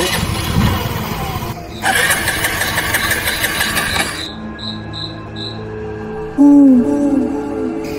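A car engine cranks and tries to catch without starting, a loud mechanical grind over a constant chirp of crickets, while faint music plays in the background.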